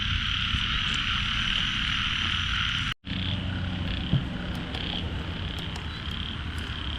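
Many frogs croak steadily through a rainy night, a dense layered chorus with a bright high trill over low pulsing calls and constant rain hiss, briefly cut off for a moment midway before resuming.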